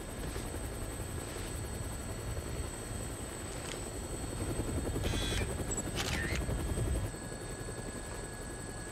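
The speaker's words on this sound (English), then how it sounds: "Looks like taking a helicopter was the way to go." A helicopter in the video game Dead Rising drones steadily with a low rotor rumble, swelling slightly louder midway before easing, faint and distant, with a few brief high clicks over it.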